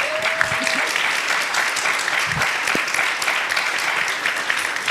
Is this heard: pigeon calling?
no